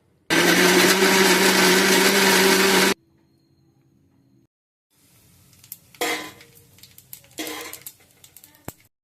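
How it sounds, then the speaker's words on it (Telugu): A mixer grinder grinds whole spices (cinnamon, cloves, coriander seed) for egg masala curry in a loud, steady whir for a few seconds, then stops; afterward come a low hum and some clattering handling noises. "ఇవన్నీ మిక్సీ పట్టుకున్నాము"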